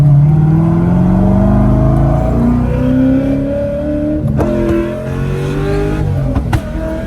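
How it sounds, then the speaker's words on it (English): An LS3-swapped C5 Corvette accelerating hard, heard from inside the car: a loud engine roar climbs in pitch, then drops sharply at a gear shift before climbing again. "On that gear shift, it spun a"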